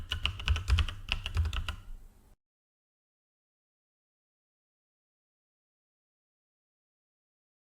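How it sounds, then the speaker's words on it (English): Keys on a computer keyboard are tapped in a quick, close burst for about two seconds while a command is entered, then silence. "So we type start and then the package name."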